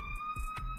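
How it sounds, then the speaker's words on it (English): Steady police siren tones wail outside in the background, distant and fairly faint, with low rumbling noise underneath. "excuse the sirens in the background"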